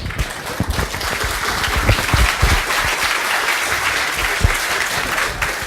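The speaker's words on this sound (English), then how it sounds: "Yes, a big applause for him" Dense, close applause from a tech conference audience for a speaker who has finished, with steady clapping that holds through the whole stretch.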